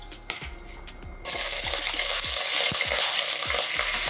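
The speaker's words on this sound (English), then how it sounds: "So I'm gonna fry that lightly in the oil." Chopped small onion hits hot oil with a sudden loud sizzle partway through, following a few quiet stirring knocks, then keeps frying steadily while a utensil taps and stirs in the pan.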